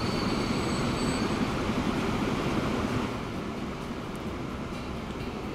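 A freight train in Transport Fever running at full speed, a steady loud rolling rumble and hiss that continues throughout and eases slightly partway, with no voices.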